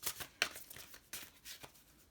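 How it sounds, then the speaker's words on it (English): A deck of tarot cards is shuffled by hand in a quiet room, giving soft, irregular riffling and flicking bursts separated by brief pauses. "I'm just doing an extra shuffle just to grab them"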